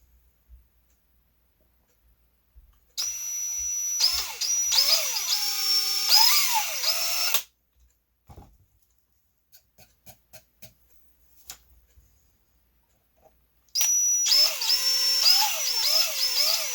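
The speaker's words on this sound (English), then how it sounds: "So I am tilting the drill, getting it started on the center of them crosshairs." Small power drill whines through wood on a wooden outrigger model boat kit part, in two loud bursts of several seconds each with speed wavering, separated by light clicks and taps.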